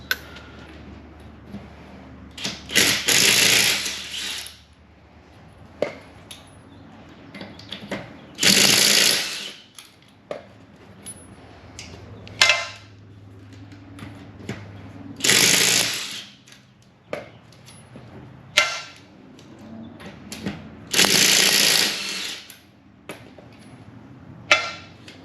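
A Kobalt impact driver rattles Subaru Forester lug nuts loose through a thin-walled adapter, in several loud, hammering bursts of a second or two each, separated by quieter pauses and small clicks.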